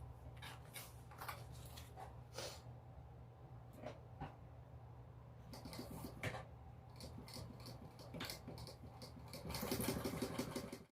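A sewing machine stitching a Belinda bum bag up one side, across the top and down the other at a short stitch length, heard as quiet runs of rapid mechanical whirring with brief pauses and a louder final burst.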